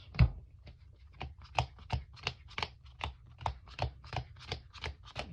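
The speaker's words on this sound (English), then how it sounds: "I'm just gonna shuffle my hand." A hand of Yu-Gi-Oh! cards is shuffled, a quick series of crisp riffling snaps roughly every third of a second, close up and alone.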